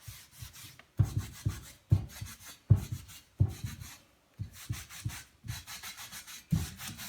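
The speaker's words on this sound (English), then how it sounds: "So I always wipe down my grates on the counter, not on the stove." A rough cotton dishcloth scrubs a stove grate on a kitchen counter in quick, repeated rubbing strokes, soft scratchy swipes with light knocks, grouped in short bursts with brief pauses.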